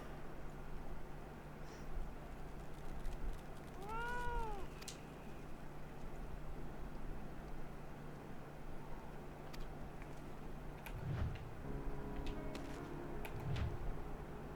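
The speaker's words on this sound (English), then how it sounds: "I heard a cat." A cat meows in Final Fantasy XIV Heavensward, a single clear, rising-falling meow heard once midway over quiet ambient game background, followed later by faint soft thumps.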